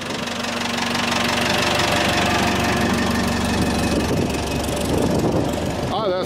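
A Volvo BM-642 backhoe loader's diesel engine running steadily just after a cold start, a loud, continuous knocking clatter close by, with a brief squeak near the end.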